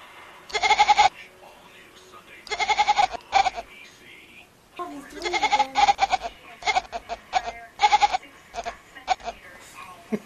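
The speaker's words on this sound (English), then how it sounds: "It sounds like a baby goat." A kitten gives a series of loud, wavering bleat-like meows resembling a baby goat, coming in bursts with short pauses, close up, with people talking quietly between the cries.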